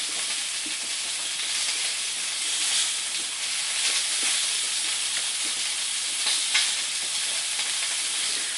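Sausage and peppers fry in a cast iron pan with a steady, close, bright sizzle and hiss that runs unbroken throughout, with occasional faint stirring clicks and no talking.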